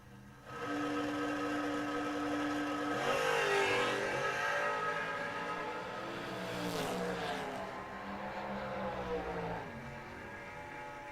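A big Camaro makes a drag racing run: a loud engine note climbs through rising revs, dips at a gear change and climbs again, then fades as the car pulls away, with no talk over it.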